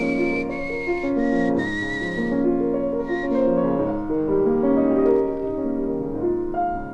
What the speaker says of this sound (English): I didn't expect to get that classic whistle of yours in addition.